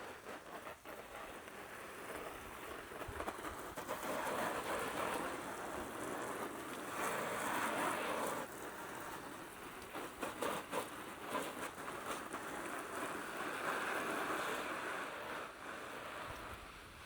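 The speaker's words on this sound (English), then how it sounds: "Look at how that water just slides right off the cover." Water pours and splashes over a waterproof firewood rack cover outdoors, a continuous broadband hiss and patter with shifting surges, fairly faint and with no voices.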